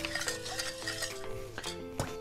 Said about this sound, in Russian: И все хорошо перемешиваем до растворения.